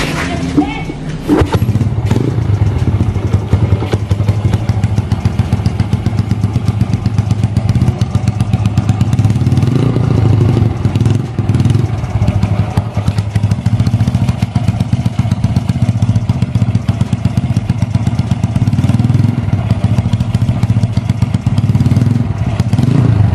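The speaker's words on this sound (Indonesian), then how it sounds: "Jadi untuk suara mesinnya seperti ini ya, kayak slip engine gitu" A bored-up 135cc Yamaha Vega ZR motorcycle engine runs steadily and loud for over twenty seconds, with a continuous low rumble and some mechanical clatter and knocking throughout.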